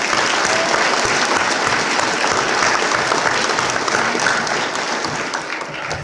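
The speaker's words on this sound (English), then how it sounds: "a round of applause" A fundraiser crowd gives a loud, sustained round of applause, many hands clapping densely and evenly, easing off slightly near the end.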